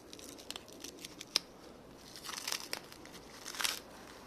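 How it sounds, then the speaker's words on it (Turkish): Grafting wrap is peeled and torn away from a bark graft on a tree in İzmir, giving quiet crinkling, rustling and snipping noises in short irregular bursts, close by. "Şöyle sökelim bakalım kapatmasını kontrol edeyim."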